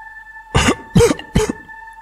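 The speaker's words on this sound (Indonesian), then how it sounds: "Suara batuk ibu bidan mengejutkan mereka" A woman coughs three times in quick succession, close and loud, each cough short and harsh, with a faint steady hum underneath.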